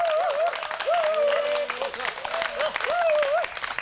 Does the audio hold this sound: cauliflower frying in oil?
no